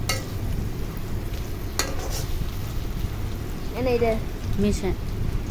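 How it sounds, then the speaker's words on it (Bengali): Spiced rui fish bhuna is stirred in a pan, giving a steady scraping, sizzling rustle with a sharp clack near the start and a brief voice toward the end. "তারপরে মশলাটা ভালোভাবে মাছের সাথে নাড়াচাড়া দিয়ে"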